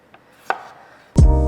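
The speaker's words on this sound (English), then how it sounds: "Now I'm just gonna cut these into kind of cubes." Washed potatoes being cut into cubes with a knife: two light taps, a sharper tap, then one loud, close chop against a cutting board that rings briefly.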